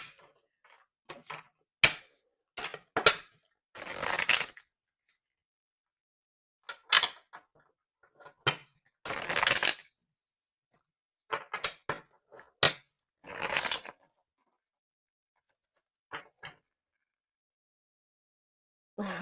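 A tarot card deck shuffled by hand in short, crisp bursts separated by quiet gaps, close to the listener, with no voices.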